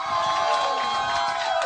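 A crowd gathered for Jidenna coming to the stage claps and cheers, a dense steady roar of applause with shouts, loud and sustained throughout.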